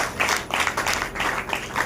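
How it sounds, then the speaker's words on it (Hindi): A church congregation claps hands in praise during a Hindi-language worship meeting, dense broadband clapping bursts in uneven waves that swell and dip throughout, fairly loud with no clear voice on top. "ताली बजा करके परमेश्वर"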